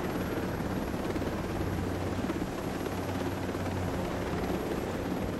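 Helicopter in Ghost Recon Breakpoint flying high over the map, a steady, loud rotor drone and thrum that holds unbroken and alone throughout.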